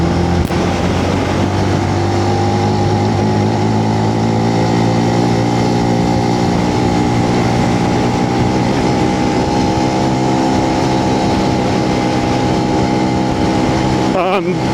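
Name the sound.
Benelli BN125 motorcycle engine running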